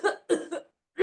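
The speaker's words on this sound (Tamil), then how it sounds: "லொக்கு லொக்கு லொக்குன்னு இருமல் பார்த்தீங்களா, குத்திருமல்" Four short, harsh coughs sound close by in quick succession, three bunched together, a brief pause, then one more, with nothing else in between.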